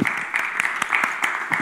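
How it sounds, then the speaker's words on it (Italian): An audience at a festival event in Venice applauds a guest, a dense, moderately loud patter of many hands with a few distinct, regularly spaced sharper claps, continuous through the moment. "Allora un applauso a Giorgio,"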